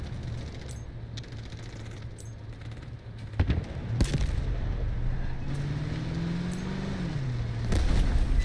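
Artillery barrage in the Delta Force video game: a steady low battlefield rumble with several sharp blasts landing over about eight seconds, plus a rising and falling engine-like drone in the middle.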